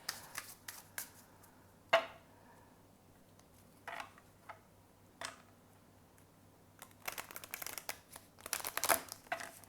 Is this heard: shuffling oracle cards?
yes